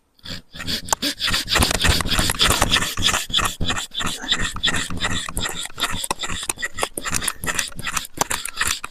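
Rough, rhythmic rasping of a hand saw cutting through the bark and wood of a plum tree for grafting, with quick back-and-forth strokes and brief pauses, close and fairly loud.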